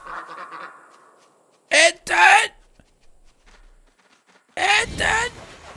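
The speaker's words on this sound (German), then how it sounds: "Enten!" Ducks in the video game Lost Ember give two loud double quacks several seconds apart, nasal and honking, with quiet gaps between. A voice talks softly at the start.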